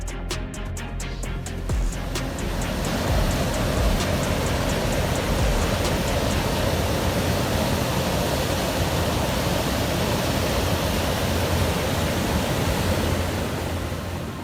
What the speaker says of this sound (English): Ice waves reaching 12 to 14 feet repeatedly struck the lighthouse, creating a scene as if nature were displaying all its power.